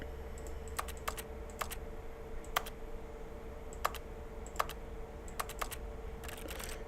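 Keyboard key clicks from the video game The Stanley Parable, single and double taps in short bursts at an irregular pace over a steady low hum, with no voices.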